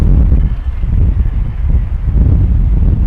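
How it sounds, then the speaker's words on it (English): Strong gusty wind, gusting to around 55–60 knots at Heathrow Airport, buffets steadily and loudly in a low, rough roar with small surges. "Wind gusts have dropped slightly here. Was 60, now 55 knots."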